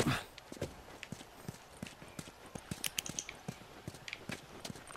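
Horse hooves clip-clop steadily in The Last of Us, a quick run of close, crisp impacts with an uneven rhythm across the whole stretch, over a faint game ambience.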